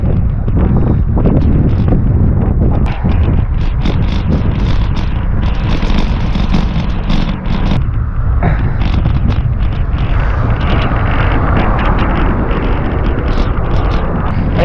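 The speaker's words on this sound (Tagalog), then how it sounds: "lakas ng hangin!" Strong wind roars on a mountain road on the Baguio–Atok–Kabayan loop, buffeting the microphone with continuous, loud, low rumbling gusts throughout.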